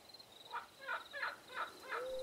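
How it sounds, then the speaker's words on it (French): An owl calls at night in a forest, giving five wavering hoots in an even rhythm at moderate distance over quiet background. "Une chouette ulule et quelque chose s'agite dans les buissons."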